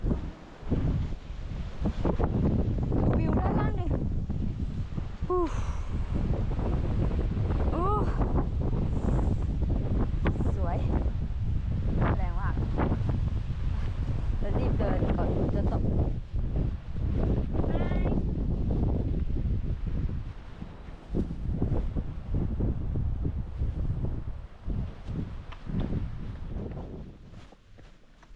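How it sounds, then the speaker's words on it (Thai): Strong, gusty wind batters the microphone at a cold mountain viewpoint on Phu Soi Dao, roaring loudly and continuously, while people talk and exclaim over it throughout. "หนาวมากดูวิวสวยมากโอ้ลมแรงมาก"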